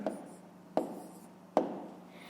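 Writing out a fifth-grade math solution produces three distinct, close tapping strokes about a second apart, each trailing into a brief scratchy rub against a quiet background.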